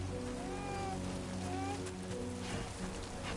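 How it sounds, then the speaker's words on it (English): Steady rain falls in the video game Death Stranding 2, a dense continuous hiss that holds level throughout, with a low game drone and faint tonal sweeps underneath. "Rain. Gotta move."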